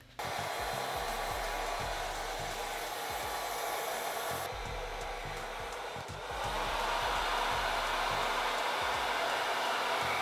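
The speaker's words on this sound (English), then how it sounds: "freeze the entire thing with hairspray and a blow dryer on low heat" A blow dryer on low heat runs continuously at close range while setting hairspray on styled hair, a steady airy whoosh that briefly dips in pitch and then resumes.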